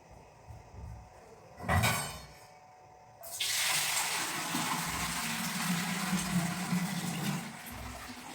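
Water from a household tap runs in a steady, loud broadband gush for several seconds after a brief burst of handling noise, close to the microphone with no talk over it.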